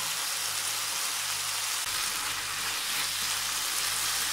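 Cooked chicken mince sizzling steadily in a hot pan as ketchup is added, a dense continuous frying hiss close up with no talk.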